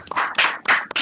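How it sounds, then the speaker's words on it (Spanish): A small classroom audience claps for a student's talk, a few close bursts of hand claps in uneven rhythm over about a second. "un aplauso para su compañera porque está muy bien recibido"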